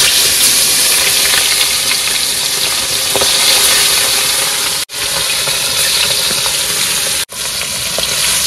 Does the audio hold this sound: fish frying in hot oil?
yes